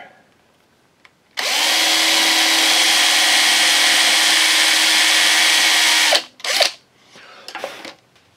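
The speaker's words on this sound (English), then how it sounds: "I've got all the holes drilled. There's 36 of them." A power drill bores peg holes into a wooden bowl in one loud, steady run of about five seconds, then stops and leaves a few short bursts and quieter rustling.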